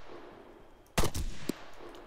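Gunfire from the video game Arma 3 as a player shoots at zombies: a sharp burst of two or three close, loud shots, then one more single crack after a brief pause, over quiet game ambience.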